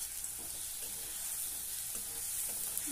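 Turmeric sautés with the base for a fenugreek-leaf curry in a pan, a soft steady sizzle with faint low scraping of stirring underneath, close but fairly quiet.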